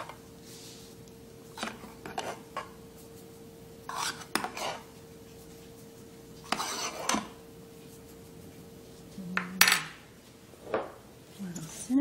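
A spoon scooping frothed milk from a frother jug into a cup, making several separate metallic clinks and scrapes of utensil on ceramic, close and fairly quiet, with no talking.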